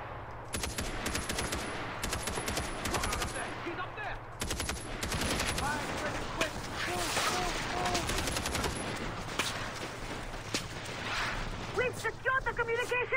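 Rapid automatic gunfire in Far Cry 4, long dense bursts of shots rattling almost nonstop, with brief gaps and a lone voice shouting over the shooting.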